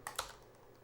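Two quick clicks of a computer keyboard, sharp and close, while timecode numbers are entered during film dailies syncing in an editing program, followed by quiet room tone.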